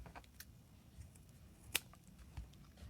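A single crisp scissors snip cutting a fabric bag strap, close and sharp, against a quiet room background with faint handling noise.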